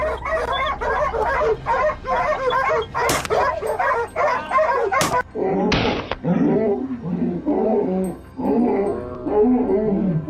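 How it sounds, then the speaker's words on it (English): Hunting dogs bay and yelp repeatedly during a wild boar hunt on a hillside, close and loud, with a few sharp bangs and people talking between the barks. "the baying of hunting dogs rang out, alerting Thomas"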